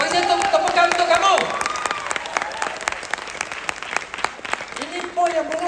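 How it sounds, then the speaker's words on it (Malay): Audience applause at a business opportunity seminar, a loud burst of crowd clapping with a speaker's amplified voice over it at the start and end. "Bagi saya tepukan untuk kamu."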